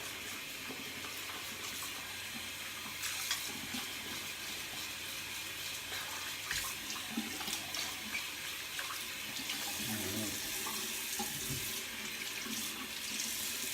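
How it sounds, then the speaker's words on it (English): A tap runs as a shaving bowl and brush are rinsed, the water splashing and gurgling steadily for the whole stretch, with a few knocks and shifts in the flow. "Rinse out the bowl and brush while it sits."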